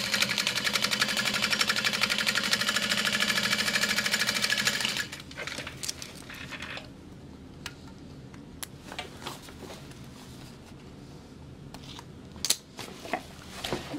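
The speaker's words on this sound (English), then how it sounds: "Okay, so I'm just gonna sew that shut really quick." A sewing machine stitches a large fabric bag shut in a fast, loud, continuous whirring run for about five seconds, then stops, followed by quieter handling noises and occasional clicks.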